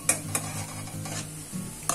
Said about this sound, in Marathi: दुसरी बॅच ही आपण इथे अशाच प्रकारे तळून घेऊ